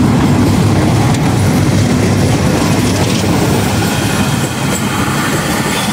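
A passenger train, the Karakoram Express, runs through Shahdara Junction railway station on a crowded day before Eid, giving a loud, steady rumble of rolling wagons and clattering wheels that fills the whole stretch.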